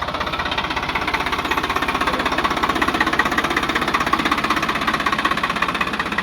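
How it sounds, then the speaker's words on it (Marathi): A tractor engine runs steadily while driving, a loud, continuous rough chugging and rattling drone that holds close and even throughout, with no talking. "तर ट्रॅक्टर चालवायला मजा आली"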